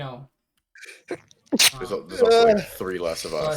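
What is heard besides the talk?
sneeze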